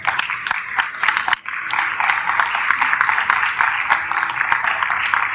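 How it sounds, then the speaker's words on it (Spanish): Audience applause fills a comic con auditorium in Argentina, a dense steady wash of clapping that dips briefly and then swells again, with a few sharper claps standing out. "Ustedes recibirán estos monstruos con el aplauso que estos monstruos se merecen."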